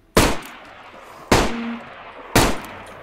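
Three single gunshots in the video game DayZ, each a loud, sharp crack about a second apart with a short decaying tail, close and alone.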